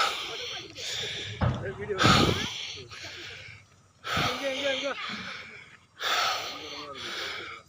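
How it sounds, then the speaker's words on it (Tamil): A person breathes heavily at the summit of Vellimalai hill after the climb. Repeated ragged gasps and panting bursts come close to the microphone. "மூச்சு வாங்குதுங்க"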